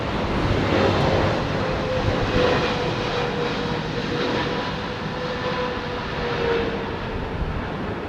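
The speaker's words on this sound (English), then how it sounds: "This is a Boeing 777." Boeing 777 airliner at Heathrow Airport, a steady broad jet engine roar with a faint tonal whine, loud and sustained throughout with slight swells, no voices.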